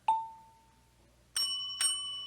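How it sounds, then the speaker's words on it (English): A store counter call bell in a 1940s shop is struck three times: one clear ding that rings and fades, then after a pause two more bright metallic dings close together, each with a lingering shimmering tone, heard alone and close. "when she hears the call bell"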